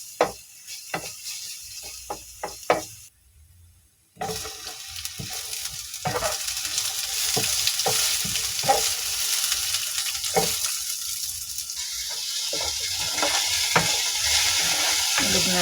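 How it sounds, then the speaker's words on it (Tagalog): Garlic sautéing in a pan, a steady bright sizzle that builds after a brief stir and rattle at the start, then continues loud and close with occasional scraping clicks as it is stirred. "Gisa muna tayo ng bawang."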